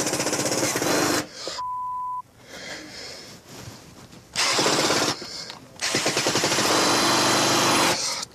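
A power drill straining to drive screws into wood through pilot holes drilled far too narrow, with loud bursts of whirring and grinding that stop and start in uneven spurts, separated by brief pauses.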